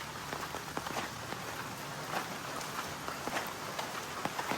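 Rain falling on a village lane in Kannur, Kerala, a soft, even hiss of drops with scattered louder splats, faint and continuous, with no voices over it.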